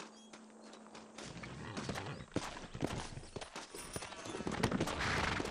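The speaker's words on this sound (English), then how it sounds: "Horses are over here!" Horse hooves clip-clop in the Red Dead Redemption video game on PC, a steady run of sharp hoofbeats that grows denser and louder as the horses move, with a faint hum underneath.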